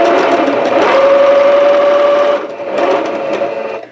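A sewing machine stitches a quarter-inch seam on jelly roll strips for a scarf, a steady close whirring run of about two and a half seconds that briefly slows, then resumes for another burst.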